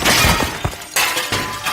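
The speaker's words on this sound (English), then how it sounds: "Oh no, the helicopter crashed." A Fireman Sam toy helicopter crash sound effect plays as two or three loud, close shattering bursts like breaking glass, without speech.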